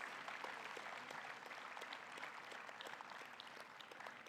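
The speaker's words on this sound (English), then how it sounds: "A big round of applause" At a hospital convocation award ceremony, an audience applauds an award recipient, producing an even, continuous patter of many hands heard faintly from a distance.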